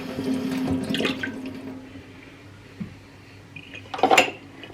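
Produce being rinsed under a running kitchen tap, with splashing water and a few clinks of dishes or cutlery in the sink, loudest in a short burst near the end.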